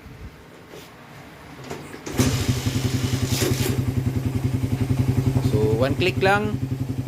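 A motorcycle fitted with a 28mm Keihin carburetor cranks and fires up after a couple of seconds, then idles with a rapid, even thumping pulse, revving slightly, while someone speaks briefly over it.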